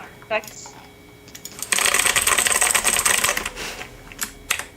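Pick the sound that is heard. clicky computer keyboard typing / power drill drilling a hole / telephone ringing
clicky computer keyboard typing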